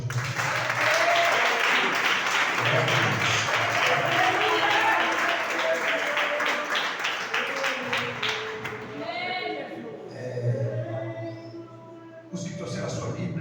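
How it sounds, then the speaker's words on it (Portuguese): A church congregation applauds during a worship service, with dense, loud clapping and cheering that swells and then fades, followed by a voice and a short musical note. "Vamos aplaudir o Senhor Jesus."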